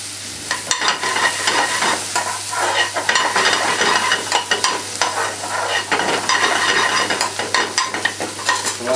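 Onions sweat in a hot pan and are stirred constantly, giving a loud, continuous sizzle and frying crackle. Scraping stir strokes run through it for the whole stretch, with no voices.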